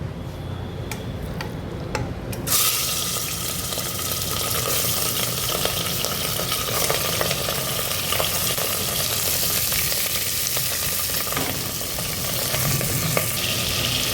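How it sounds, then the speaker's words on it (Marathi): Mutton pieces dropped into hot oil give a loud, steady sizzle that jumps up after the first couple of seconds and keeps crackling, with faint ticking spatter throughout and no talk. "तेल आपलं गरम झालं, यामध्ये हे मटण घालूया."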